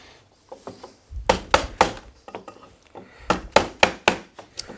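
Hammer taps knocking a steam-bent wood board down onto a baseboard under G clamps, two quick bursts of close, sharp, woody knocks in an uneven rhythm.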